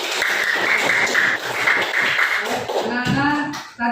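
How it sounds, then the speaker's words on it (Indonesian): Applause for a student in a classroom: a short burst of clapping from a group of hands, close and fairly loud, with voices talking over it. "berikan aplaus untuk Nanda Putri"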